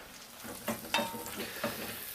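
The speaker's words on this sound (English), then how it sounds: "stir those up a bit" Mushrooms sautéing in butter in a pan, stirred a few times: a steady close sizzle with three distinct scraping stir strokes, no voices.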